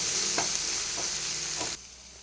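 Coriander and turmeric powder masala sautéing in a hot pan for beef chaps, a steady sizzle with three soft scraping stirs, close up, the frying cutting off abruptly near the end.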